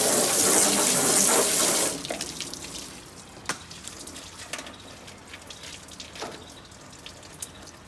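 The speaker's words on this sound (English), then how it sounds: "Rinse out all your shavings. Get them out of there." Running water from a tap rinses metal shavings out of a Char-Broil grill part, a loud steady gush for about two seconds that then drops to softer trickling and splashing with scattered clinks.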